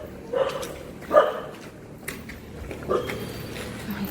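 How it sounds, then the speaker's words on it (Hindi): Dog barking outdoors with three separate barks spread over a few seconds, moderately close, no talk. "मुझे लगा कुत्ता मुझे ही देखकर भौंक रहा है।"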